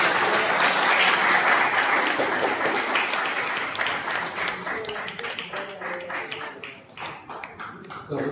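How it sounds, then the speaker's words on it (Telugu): Loud applause from a crowd at a church festival, many hands clapping densely at first, then thinning into scattered, uneven claps toward the end. "అందరు గట్టిగా చప్పట్లు కొట్టారు"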